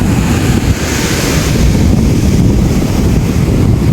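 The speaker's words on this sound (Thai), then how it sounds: "ดูคลื่นสิจ๊ะ เขาบอกห้ามเล่นน้ำนะอันตราย" Ocean waves break and wash onto the beach at Galle, Sri Lanka, a loud, close, continuous roar of surf with strong wind buffeting the microphone.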